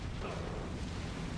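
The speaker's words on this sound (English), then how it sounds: "Oh, somebody's just been hit by flak." A flak burst strikes a bomber in the video game B-17 The Mighty 8th, a dense continuous rumbling roar of engines and explosion noise with no clear single bang standing out.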